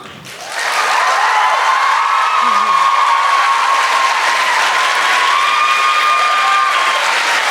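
Audience applause and cheering at a fashion school's runway show and awards ceremony, a dense, steady roar of clapping with whoops that swells in quickly and holds loud and continuous.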